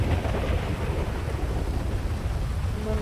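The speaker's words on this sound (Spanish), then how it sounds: "mira, clase de tormenta." Thunderstorm with heavy rain and deep rumbling thunder, a dense continuous roar with wind buffeting the microphone, no talk.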